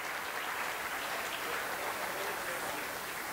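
Conference audience applause, a fairly faint, even wash of many hands clapping heard from some distance, steady throughout with no pauses.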